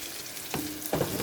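Cabbage sautés in a pan, sizzling and frying steadily up close, with two sharp stirring scrapes breaking through the continuous hiss.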